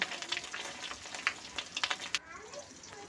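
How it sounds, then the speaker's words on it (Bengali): Fish roe is fried in hot oil and stirred until it turns red, producing close crackling and sizzling with irregular stirring bursts, fading out near the end. "তো এইভাবে নাড়াচাড়া করে কিন্তু খুব সুন্দর করে লাল করে ডিমটাকে ভেজে নেব।"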